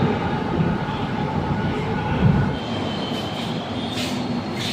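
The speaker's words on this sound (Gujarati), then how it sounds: "તો ભાઈ ફાઇનલી આપણે મેટ્રોમાં બેસી ગયા" Inside a nearly empty Ahmedabad metro train while riding, a steady low rumble and hum of the moving carriage with faint higher whines, no clear speech.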